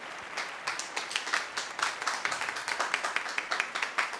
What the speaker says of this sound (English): Why doesn't everybody just give a round of applause for Ryan?